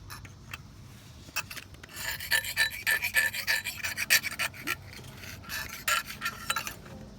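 A metal scraper rasps across an engine surface during Dodge Ram water pump removal, giving rough, irregular scraping strokes close up that come in bursts and grow busier partway through, with no speech.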